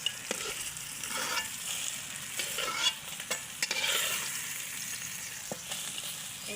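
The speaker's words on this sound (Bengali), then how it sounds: "এই যে মাছগুলো ভাজা হয়ে গেছে" Rohu fish fry in a pan with a quiet, steady sizzle broken by occasional scraping stirs and light clinks of a utensil.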